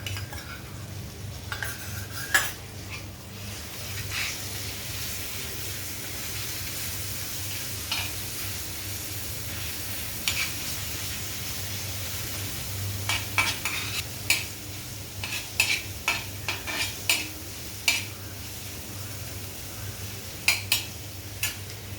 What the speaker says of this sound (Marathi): कांदा लाल झाला आहे घालूया त्याच्यामध्ये आलं लसूण आणि हिरवी मिरची आहे